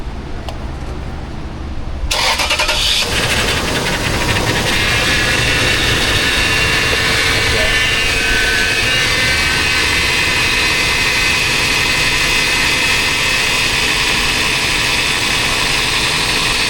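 A Toyota 4.7 V8 engine after timing belt work starts after a quiet moment and then runs at a loud, steady idle, a dense continuous roar close to the microphone.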